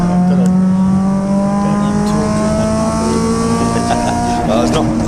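An old Triumph Spitfire race car drives on a circuit at an MG and Triumph meeting, its engine a loud steady drone that holds pitch, with commentary voices talking over it.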